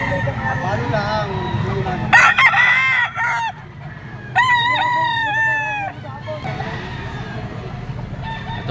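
Roosters and gamefowl stags crow repeatedly at a busy Lipa poultry market, several loud harmonic cock-a-doodle-doo calls rising over crowd noise and steady talk.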